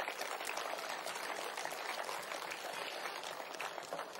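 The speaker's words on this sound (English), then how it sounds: "Big round of applause" A crowd at the MXGP motocross awards ceremony claps in a big round of applause, a dense, even wash of many hands that holds steady for several seconds without pause.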